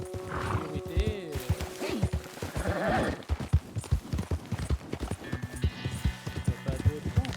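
Horse hooves clip-clop in Red Dead Redemption 2, a steady trotting rhythm mixed with game music, a whinny and other game sounds while someone talks over it throughout.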